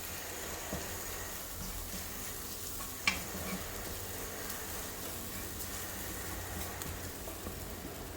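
Curry powder being stirred into squid frying in a pan, a steady low sizzle with soft scraping throughout and one brief sharp clink near the middle.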